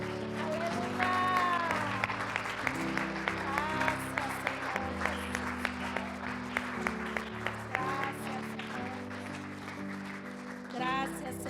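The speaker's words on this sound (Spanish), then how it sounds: "¿Cuánto damos un aplauso al Señor?" A church congregation claps along in a steady rhythm, repeated sharp claps over sustained music and singing voices.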